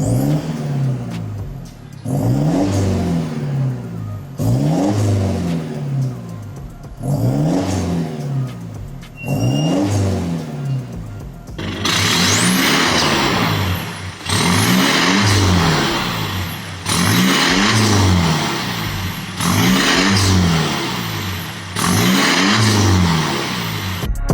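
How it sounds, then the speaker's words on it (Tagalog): A Mazda BT-50 pickup with a full Borla exhaust, Atak muffler and long tip revs repeatedly: about eight loud, close throttle blips that rise and fall in a regular rhythm, growing heavier partway through. "Panoorin na natin yung sound check nung ginawa natin."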